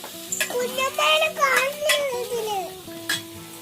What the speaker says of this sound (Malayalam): അപ്പൊ നമ്മള് ഇനി ഇതൊന്ന് ഇളക്കി കൊടുക്കാട്ടോ.